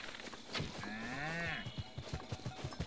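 Cattle moo in the Breath of the Wild game world, one long drawn-out low call that rises and falls, heard clearly and fairly close, followed by soft rhythmic thumps like hooves or footsteps.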